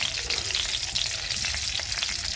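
Cumin seeds sizzling in hot oil in a deg-style kadhai for a tadka, a steady close crackling fry with no voices.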